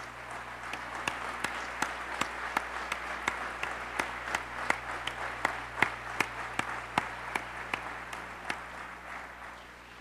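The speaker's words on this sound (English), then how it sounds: "let's give them a big round of applause" An audience at a community listening session applauds local elected officials with steady, even clapping that lasts about ten seconds at a moderate level.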